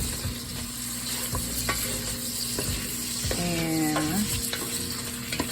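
Cabbage with smoked sausage, shrimp and bacon sizzles steadily in a pan, with occasional stirring clicks and a brief scraping sweep partway through.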